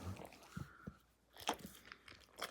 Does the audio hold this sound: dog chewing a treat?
yes